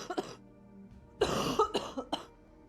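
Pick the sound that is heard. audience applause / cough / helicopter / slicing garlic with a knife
cough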